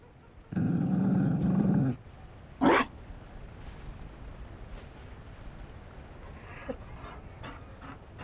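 A Mabari war dog in Dragon Age Inquisition gives one loud, rough growl, then a short huff, followed by quieter panting and shuffling noises.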